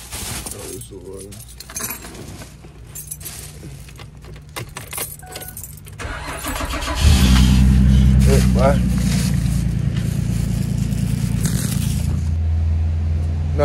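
A car engine cranks and catches at about seven seconds, then settles into a loud, steady idle while warming up outdoors in a winter storm; keys jangle and a person speaks briefly beforehand.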